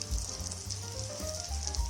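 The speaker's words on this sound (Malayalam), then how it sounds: "ഇതിൻ്റെ മേളിലേക്ക് ഇങ്ങനെ എണ്ണ കോരി ഒഴിച്ചുകൊണ്ടേയിരിക്കണം" Kerala neyyappam frying in hot oil gives a steady, close sizzle with soft low thumps, as if oil is being ladled over the sweet.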